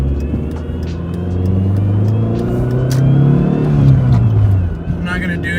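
A boosted Dodge SRT4 on new tires accelerating hard, heard from inside the car: a loud, steady engine drone that climbs in pitch through the pull, then drops off sharply near the end.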